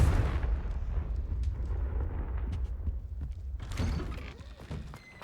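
Explosive spell blast from the Confringo curse in Hogwarts Legacy, fired in an underground spider cellar: a booming, rumbling burst with heavy low crackle sustained over several seconds, followed by a second sharp impact near the end.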